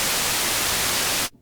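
White noise from the oscillator of a Therevox ET-5 synthesizer, a loud, even broadband hiss that holds steady for over a second, then cuts off abruptly.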